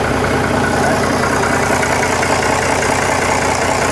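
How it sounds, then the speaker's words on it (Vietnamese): Genuine Komatsu engine of a used Japanese forklift idling with the engine bay open, a loud, steady diesel rumble that holds even throughout with no revving. "Đấy, động cơ chính hãng của Komatsu nhá"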